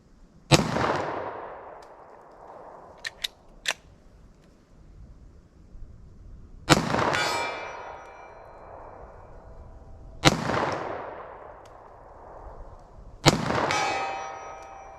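Heavy hard-cast revolver rounds, .45 Super or .44 Magnum, fired outdoors from a light 26-ounce handgun: four loud, booming shots spaced a few seconds apart, each with a long rolling echo, plus a few faint metallic clicks between them.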